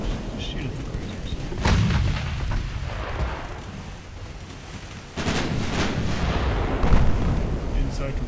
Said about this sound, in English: let's get the main batteries going